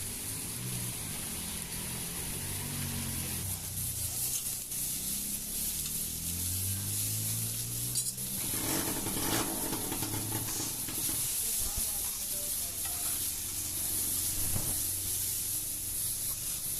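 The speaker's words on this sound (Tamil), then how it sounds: "மாங்காய் வந்து நல்லா ஃப்ரை ஆகிட்டுருக்கு" Raw mango slices frying over medium heat in a pan give a steady, close hiss and sizzle that runs throughout, with faint scraping and low rumbling underneath.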